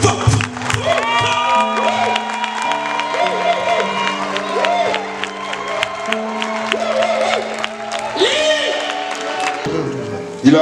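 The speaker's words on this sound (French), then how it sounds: "Et acclame très fort le Seigneur." A congregation at a prayer vigil cheering loudly for the Lord, a sustained crowd roar of whoops and shouts mixed with clapping, under keyboard chords and a voice, lasting the whole stretch.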